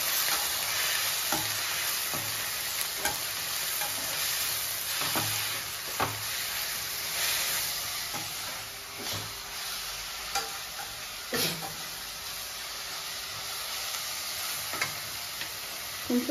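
Gobi fried rice cooks in a street-food pan with soy sauce and chili sauce, steady sizzling hiss broken by repeated metallic stirring scrapes and clinks, close and continuous with no talking.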